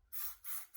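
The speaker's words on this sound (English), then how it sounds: "I just kind of spray the ends of my hair." Hairspray, a strong flexible-hold formula, hissing onto the ends of hair in two quick close bursts with a short pause between them and the start of a third.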